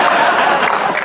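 Audience applause fills a hall during a Hindi comic-satire poetry performance at Kala Mandir, Bhilai: a dense, steady patter of many clapping hands, close and loud throughout.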